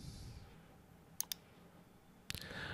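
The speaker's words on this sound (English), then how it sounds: "Now click on LAN settings." A computer mouse clicks twice in quick succession, then once more a second later, sharp and close against a quiet room hiss.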